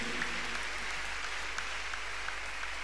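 A church congregation at a miracle service claps their hands together, a continuous, even roar of many hands filling the room without pause.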